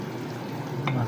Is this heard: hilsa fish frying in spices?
yes